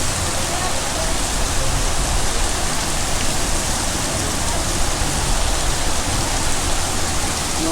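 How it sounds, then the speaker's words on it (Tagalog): Heavy rain pours steadily on a mountain in Socorro during a power outage, a dense, constant hiss of downpour close to the microphone with no break across the whole stretch. "Pero lakas pa rin ang ulan"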